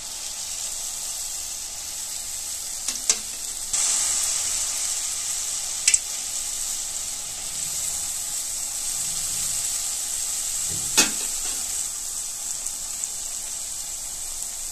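Rice flour rose cookies (achu murukku) fry in hot oil with a steady, close bubbling sizzle throughout, broken by a few brief clinks and splashes of the mould being dipped.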